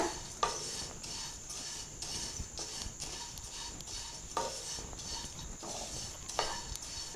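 Flattened rice (aval) roasting in ghee in a pan, a soft steady sizzle broken by repeated scraping strokes of a spoon against the metal, with occasional sharper clinks, no talking.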